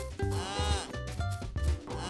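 A voice imitates a cow with a few drawn-out, wavering moos, heard up close with short pauses between them during a Simon Says game.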